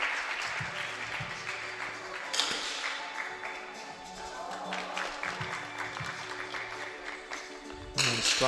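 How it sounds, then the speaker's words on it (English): Applause and cheering from the Slovenian team at a junior women's 3-positions rifle shooting final, a steady crowd clapping sustained through the clip with a louder burst near the end. "Starkušek getting a massive cheer from the Slovenian team"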